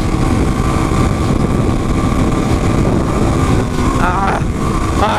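A Suzuki DR-Z dual-sport motorcycle with modified gear ratios revs hard and steady up close, its engine droning loudly as it pulls through the gears, with a brief rising shift note near the end.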